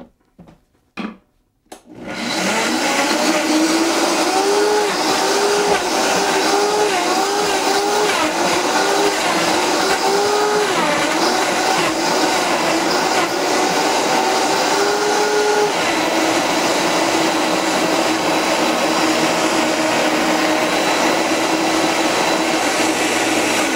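After a few sharp knocks, a kitchen blender roars into a loud, steady whir for over ten seconds, blending organic ginger with fruit and vegetables into juice, the motor pitch wavering as the load churns, then settling into a continuous drone.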